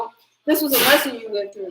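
A short burst of a sneeze breaks in as someone talks close by, the speech continuing right over and after it.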